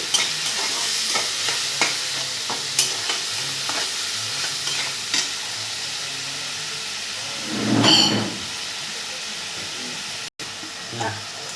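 Frying in a pan for a sea fish curry, a close steady sizzle with scattered spatula clicks and one brief louder hissing burst midway.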